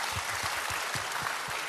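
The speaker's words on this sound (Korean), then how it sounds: "박수 한번 주시죠." An audience breaks into applause at a talk event, a short burst of steady, moderately loud clapping with no voices over it.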